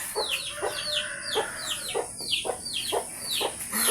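Chickens cluck repeatedly at dawn on a foggy farm morning, a series of clear calls spaced about half a second apart over steady background ambience.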